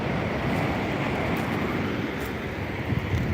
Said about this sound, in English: the waves are kicking pretty good